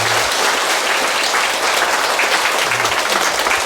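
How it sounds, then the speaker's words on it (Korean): Loud, sustained applause from a large audience after a Buddhist dharma talk at a Wednesday temple service, a thick, even roar of clapping hands filling the whole stretch. "오늘 좋은 법문해 주신 덕조 스님께 다시금 감사의 큰 박수 부탁드리겠습니다."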